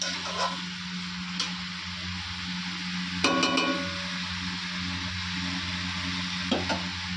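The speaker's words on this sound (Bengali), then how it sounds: "এখন আমি চিকেনটা দিয়ে দিয়েছি কড়াইতে কষানোর জন্য।" Chicken sautéing in a wok alongside fried potatoes makes a low, steady sizzle with occasional utensil clinks and stirring, over a constant hum in the kitchen.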